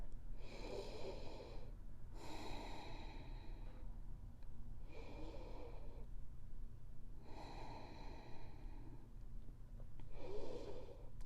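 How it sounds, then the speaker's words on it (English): Slow, deep yoga breaths, about five long inhale-exhale cycles at an even pace, close and soft with a faint airy hiss on each one. "We're here for a few rounds of breath."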